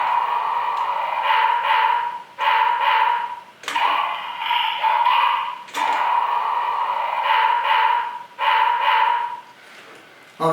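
A toy canine cannon gives off an electronic barking sound effect from its tail trigger, looping loud barks in several bursts with brief gaps between them.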